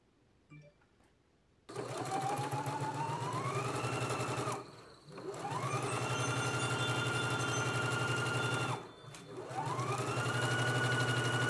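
A sewing machine runs three long bursts while stitching skirt side seams, its motor whirring and rising in pitch as each run starts, with brief pauses between, close and steady with no talking.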